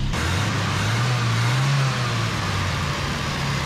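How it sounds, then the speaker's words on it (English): A rebuilt truck engine idles steadily and close by, a low, even rumble that swells slightly in pitch midway before settling back to a smooth hum, with no voices. "She's idling pretty good now."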